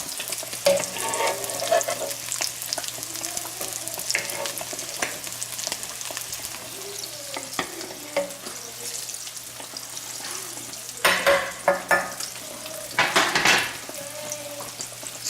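Cajun-battered catfish fillets frying in hot oil give a steady sizzling crackle, with louder bursts of spattering as pieces go in and occasional clinks of utensils against the pan.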